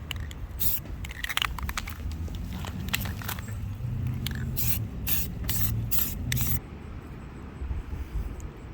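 An aerosol spray-paint can coats a truck's blue shell with repeated short hissing bursts, close and sharp, over a low background rumble, the spraying stopping near the end.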